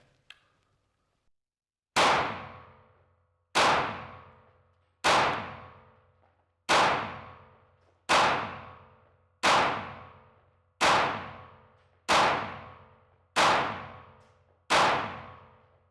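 Smith & Wesson SD40 pistol firing .40 caliber rounds at a 10-yard range target, nine sharp loud shots at a steady pace about every one and a half seconds, each with a decaying echo.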